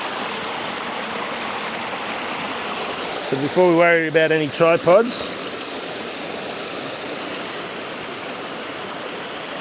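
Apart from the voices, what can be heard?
river flowing at Kiamba rock pools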